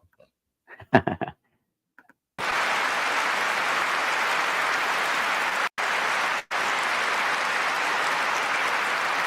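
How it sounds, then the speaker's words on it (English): A brief burst of speech-like sound gives way to loud, dense, sustained applause from a large audience in a played speech recording, cut by two short dropouts. "grand applause here"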